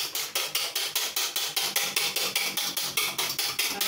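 A torrejas batter is beaten briskly in a bowl, giving a fast, even run of close, loud, rhythmic strokes at about four per second, with no voices.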